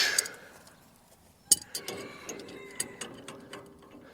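A wrench clicks and clinks while backing off a lock nut on a tractor stabilizer bar, with a few sharp metallic ticks and small ratcheting taps spaced irregularly, quiet and close.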